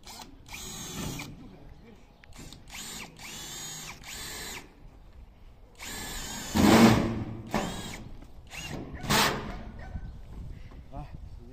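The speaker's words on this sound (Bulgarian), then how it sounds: "Зашием още 2 винта." A power drill drives screws in short repeated bursts, whirring up and stopping with a couple of louder straining runs, while people talk in between.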